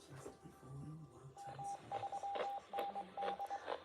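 Short, evenly pitched beeping tones come from a radio in a bursty on-off pattern of dots and dashes, faint and set over crackly static with low background murmur.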